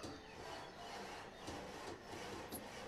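Builders in the game Banished work with a hammer and a saw, a soft continuous rasping and rubbing like sawing wood, faint and steady with light knocks, no voices.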